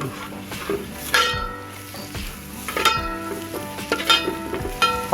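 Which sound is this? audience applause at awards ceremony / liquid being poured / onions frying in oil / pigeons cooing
onions frying in oil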